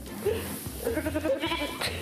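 Sheep on a Ukrainian sheep farm bleating close by, several short wavering calls in quick succession over faint background noise.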